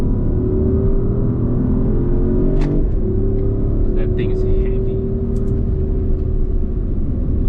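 Inside an electric Porsche Taycan on the Sepang race circuit, a steady whirring drive hum holds under a constant rumble of road and tyre noise, with brief clicks, while a person talks over it.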